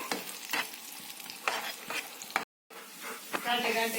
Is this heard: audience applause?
no